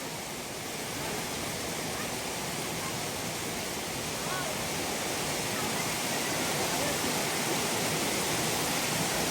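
Waterfall beside a village footpath in Konkan, a steady, dense roar of falling water close by that holds evenly throughout with no break.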